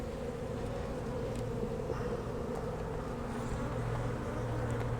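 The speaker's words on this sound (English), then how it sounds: "So the bees coming back are worker bees." Honey bee workers flying around a hive, a dense continuous droning buzz from many bees close by, steady throughout with occasional louder passes near the listener.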